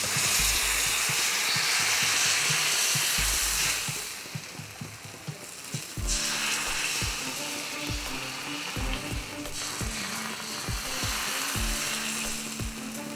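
Tomato dosa batter sizzles loudly on a very hot griddle over high flame, a continuous crackling hiss with softer spreading scrapes and a dip in intensity partway through.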